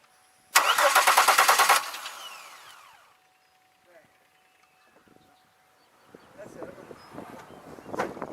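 2002 Chevy Malibu engine cranking without starting, a loud rapid starter whir for about a second that cuts off and fades, followed by faint clicks and handling noises, with someone talking.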